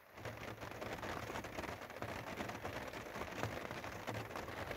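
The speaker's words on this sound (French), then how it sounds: "il pleut assez fort, il y a de l'orage." Steady heavy rain during a thunderstorm in Normandy pours down continuously on a van, a dense even hiss of drops drumming on a surface, with no voices.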